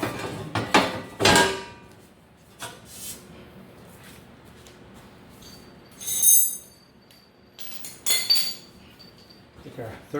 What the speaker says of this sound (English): So now we can put our floor pan back on.